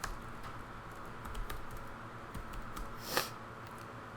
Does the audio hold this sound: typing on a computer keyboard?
yes